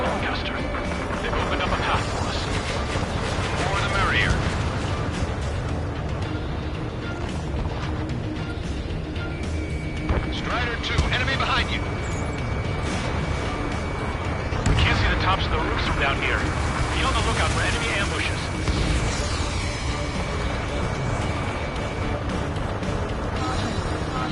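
Gunfire from enemy vehicles in the Ace Combat 7 video game, sustained battle noise with bursts of shots and crashes under continuous radio chatter and engine roar, dense throughout.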